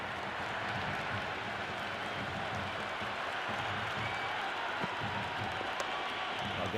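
Simulated stadium crowd in the cricket video game Cricket 26, set during an IPL match between CSK and MI, gives off a steady, dense roar of cheering and applause that holds at an even, moderate level throughout.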